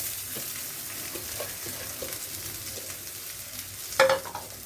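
Rice frying in a hot pan with a little turmeric, a steady sizzle broken by soft scraping stirs and one louder clatter near the end, with no voices.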